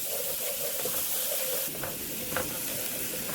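Garlic sizzles and fries in hot oil for pumpkin curry, with steady crackling and a few spoon-scraping stirs, close and continuous with no talking.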